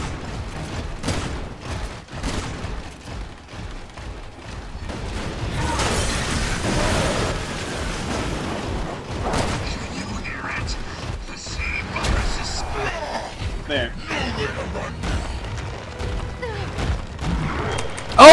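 Gunfire in the Resident Evil 6 Simmons boss fight, Leon campaign on No Hope difficulty, with dense booms, bursts and impacts running almost without a break amid game noise, with players talking over it.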